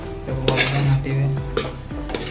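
A spoon stirring and mixing vegetable biryani in a metal pot, giving close scraping and clanking strokes with a few sharp knocks against the rim, in an irregular rhythm.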